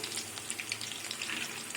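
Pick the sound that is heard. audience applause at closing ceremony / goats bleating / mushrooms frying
mushrooms frying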